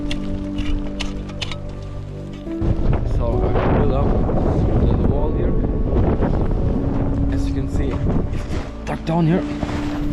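Strong wind in the mountains during a snowstorm roars and buffets the microphone with a steady, loud rush. A person speaks over it.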